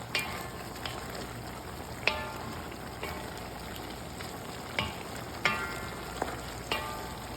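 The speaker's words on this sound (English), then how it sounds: "After the meat is browny ready, we put green peppers. Mix. 3 minutes with the green peppers." Beef and green peppers frying in a pan for fajitas, a steady close sizzle with periodic sharper clicks and scrapes as the mix is stirred, no talking.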